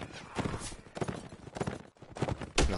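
Galloping horse hooves in Mount & Blade: Warband during a battle against many archers, a fast drumming clip-clop that runs steadily under the action with brief breaks, fairly loud and close, with a sharp hit near the end.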